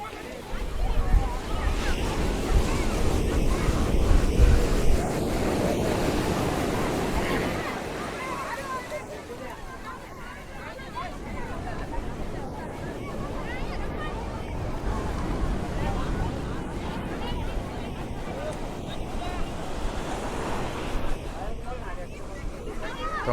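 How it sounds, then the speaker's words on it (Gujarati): Sea waves wash continuously onto Somnath beach, a broad surging roar mixed with wind buffeting the microphone, louder at first then easing, while people chatter in the background. "અને મોજા કેવા આવે"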